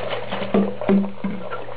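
Water sloshes inside a rabbit's water bottle as it is shaken, three or four distinct close thumps and swishes against a steady background hum, with no voices.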